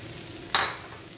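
One quick scrape and clatter of a spatula in a pan as cabbage and capsicum are stir-fried for spring roll filling; a single short burst against a quiet background.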